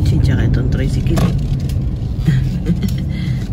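Cars and a tricycle around a parking area outside a store, a low engine rumble and passing traffic with people talking over it.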